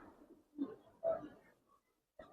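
Khaki Giribaz pigeons give a few soft, low coos, close and separated by brief pauses, with no talk over them.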